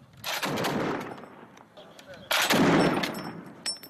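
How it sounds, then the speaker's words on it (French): Machine gun fire in combat, two loud rattling bursts close by, separated by a short pause, with faint voices in the background. "Ordre est donné de riposter à la mitrailleuse."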